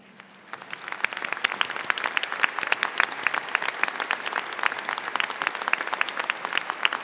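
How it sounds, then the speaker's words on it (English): Audience applause at a graduate school spring commencement, honouring standing faculty: after a brief quiet moment, clapping swells into a dense, steady round from a large crowd in a big hall. "show our appreciation for your mentoring of these graduates with a round of applause"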